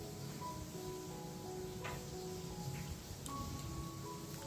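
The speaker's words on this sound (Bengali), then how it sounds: "সেপ্টেম্বরে এরকম বৃষ্টি হচ্ছে" Steady rain falls in a continuous, even hiss with soft patter, fairly quiet and unbroken throughout, with no voices.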